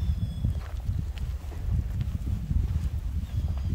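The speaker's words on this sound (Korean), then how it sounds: "바람 소리만 들립니다." Wind blows steadily around a remote abandoned-looking rural house, a continuous low rushing roar with buffeting gusts against the microphone and faint scattered knocks, no speech.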